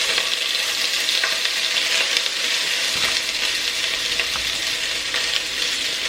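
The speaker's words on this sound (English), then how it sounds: "I'm going to add my onion." Chopped onion frying in a hot pan gives a steady, close sizzle with light stirring scrapes, continuous and fairly loud with no voices.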